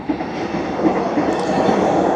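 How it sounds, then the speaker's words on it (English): A train rumbles past nearby the Newport Terminal area in Melbourne with a steady, broad roar and faint rail clatter. "More trains."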